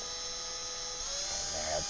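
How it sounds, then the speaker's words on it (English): Power drill boring straight down into a guitar pedalboard, a steady whirring motor with a rising whine near the end as the bit works into the board. "what I'm going to do is drill straight down and make sure I don't want to go too far with it"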